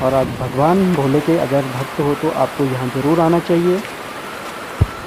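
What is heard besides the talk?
roaring mountain streams flowing nearby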